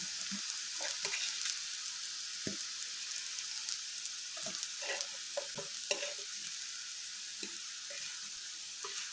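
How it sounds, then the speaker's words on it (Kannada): Raw banana slices fry on a tawa with a steady, fairly quiet sizzle, broken now and then by soft scraping turns of a spatula. No one speaks. "ಇದು ಇನ್ನೊಂದು ನಿಮಿಷ ಫ್ರೈ ಆಗಲಿ"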